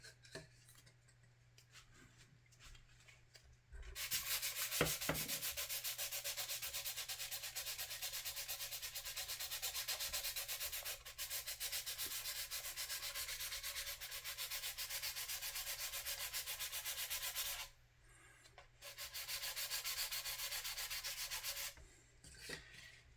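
Sandpaper rubs filler on a 1/535 scale plastic model of the USS Iowa in long, steady scraping stretches, close up and fairly quiet, with two short pauses between passes.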